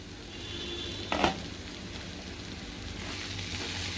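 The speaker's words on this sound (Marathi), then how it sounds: "दोन मिनटं आपण झाकण ठेवून शिजवूया" Prawn masala with onion, tomato and ginger-garlic paste sizzling and frying in a covered pan, a steady soft hiss with one brief louder stir or clatter partway through.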